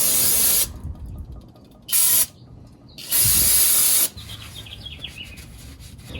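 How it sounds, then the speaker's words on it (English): Brake cleaner is sprayed onto a Jeep JL ball joint sleeve in three sharp, loud hissing bursts, a short one, a brief one and a longer one, with quieter rubbing and handling noises in the gaps. "Brake cleaner."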